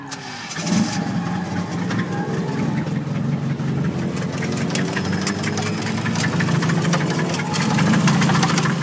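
A rough, blown KA-T engine in a Nissan S14 starts and keeps running with an uneven, knocking rumble and rattling ticks, steady and close throughout.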